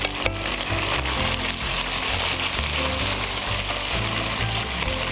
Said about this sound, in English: Right now we're going to stir fry the whole thing.